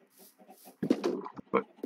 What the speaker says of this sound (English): But chickens are over here.